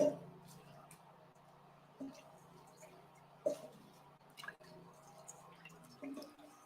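Brown rice pre-boiling in a pot of hot water gives faint, scattered drips and small bubbling pops at irregular intervals over a low steady background hum.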